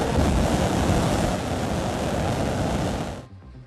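SpaceX rocket engine startup at Starbase, a dense, steady roar that fills the clip for about three seconds at a constant level, then cuts off abruptly.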